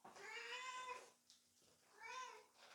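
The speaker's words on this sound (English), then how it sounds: "That was a cat." A cat gives two clear, drawn-out meows, faint and fairly close, separated by a short pause in an otherwise quiet room.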